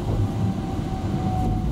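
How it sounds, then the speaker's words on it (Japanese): The Sunrise Izumo sleeper express departs Yonago Station, heard as a steady, loud, close rolling rumble with a faint thin whine running through it. "米子駅を発車。"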